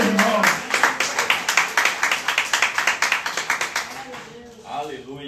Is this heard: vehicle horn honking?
no